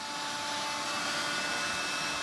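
A Dyson DC59 cordless vacuum cleaner runs steadily, a constant high whine with a broad airy hiss and no pauses, close and alone with no talk.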